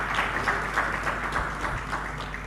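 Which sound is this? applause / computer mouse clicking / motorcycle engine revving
applause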